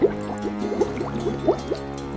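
Water sloshes and pours with a run of gurgling, bubbling drips over a steady hum, close and moderately loud for a couple of seconds.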